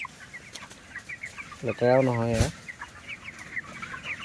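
Broiler chicks at 28 days, kept on a raised slatted floor on a poultry farm, give a brief loud burst of clucking calls amid a low, steady chatter of softer cheeps from the flock.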